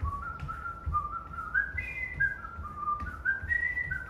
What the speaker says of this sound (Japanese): ピッコロが嫌いな口笛のメロディー